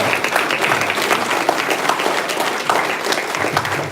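Loud, continuous audience applause for the Officers Council at a Masharah Yasharahla meeting, a full room clapping steadily and evenly throughout without any speech on top.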